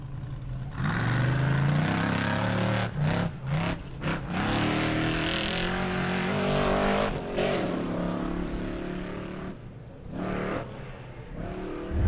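An off-road race car leaves the start line during King of the Hammers qualifying, its engine roaring and revving hard with sharp gear-change dips, loud and close, then fading slightly as it pulls away.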